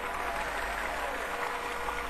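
An audience claps steadily at a political rally stage in Chiang Mai. The applause is a dense, even wash that holds at a constant loudness throughout, with no break.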